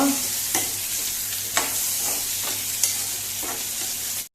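Potatoes and carrots tossed into a hot pan sizzle continuously while being stirred, with several distinct scraping knocks of the spoon at irregular intervals. No voices, ending in an abrupt stop.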